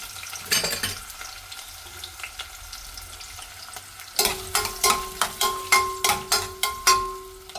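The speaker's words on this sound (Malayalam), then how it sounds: "ഒരു പാത്രത്തിൽ കുറച്ച് ഓയിൽ ഒഴിച്ച് കൊടുത്തിട്ടുണ്ട്. അതിനകത്ത് കുറച്ച് സവാള ഇട്ട് കൊടുക്കാം." Onions fry in oil in a pan, a low sizzle at first, then a run of regular, rhythmic stirring scrapes over a steady hiss and a faint hum, close by with no speech.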